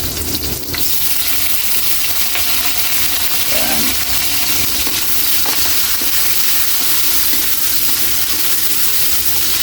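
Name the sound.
onion and tomato sauteing with garlic in pan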